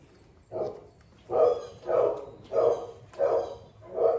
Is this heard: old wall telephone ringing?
no